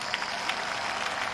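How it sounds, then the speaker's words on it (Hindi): A crowd at a political rally in Khanewal claps in a brief, dense burst of steady applause heard from within the gathering. "वो कहते हैं कि हम बिलावल के नाम पे तालियां बजाएंगे"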